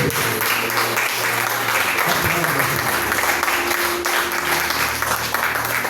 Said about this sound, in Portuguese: e com isso aplauda Ele. Aplauda.